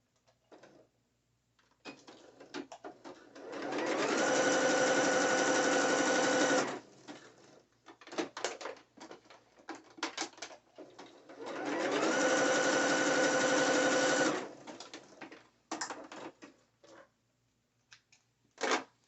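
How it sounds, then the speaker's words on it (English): A sewing machine stitches black thread onto braided elastic for a net bikini in two steady, humming runs of a few seconds each, with fabric handling and clicks between them, close and with no voices. "I'm gonna stitch this down right on top."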